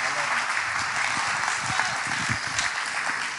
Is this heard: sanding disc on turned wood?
no